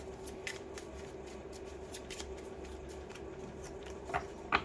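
Tarot cards being shuffled and pulled from the deck, giving soft repeated riffling and flicking papery ticks close by, ending in a couple of sharper card snaps.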